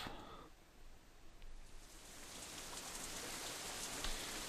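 Rain falls in the visual novel Katawa Shoujo as a soft, steady hiss that starts quietly and thickens into a broad, continuous patter with no voices over it.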